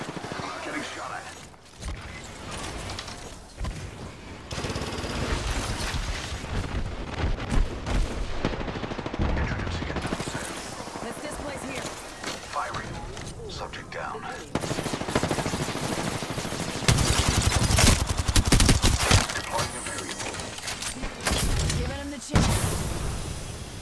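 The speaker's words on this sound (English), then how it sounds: "Getting shot at." Sustained gunfire in the battle royale game Apex Legends, with rapid automatic bursts and single shots, some close and sharp, others more distant, running throughout while character voices talk over parts of it.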